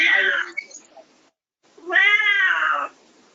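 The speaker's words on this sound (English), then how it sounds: "Somebody's cat is very angry." An angry cat lets out two drawn-out, harsh meows separated by a short silence, the second longer and more wailing, close and fairly loud.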